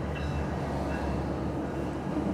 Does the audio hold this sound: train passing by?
yes